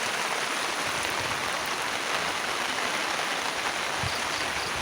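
Flood water runs fast beneath a bridge, swollen almost to its deck after a storm, with rain falling; a steady, moderately quiet rushing wash continues evenly throughout.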